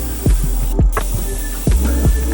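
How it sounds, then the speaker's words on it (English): Fire red base coat is sprayed onto Air Force One sneakers, giving a constant close hiss broken by short bursts and light clicks as the spray is pressed and released. "we're about to spray our base layer of red first"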